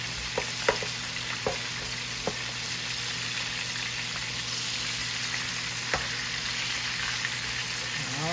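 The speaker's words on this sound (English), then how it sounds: "You can fry pork chops." Pork chops fry steadily in a pan, a soft continuous sizzle with a few faint pops and clicks, no voices.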